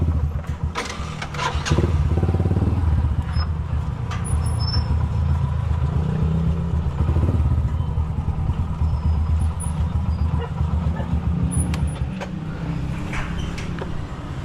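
A motorized tricycle pulls up nearby, its small engine droning steadily and loudly throughout, with a brief electric whine near the start and faint chirps above the rumble.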